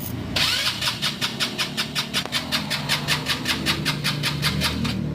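A mini Wrangler's engine cranks repeatedly in a fast, even rhythmic churn after a click, turning over for several seconds without catching, close and alone.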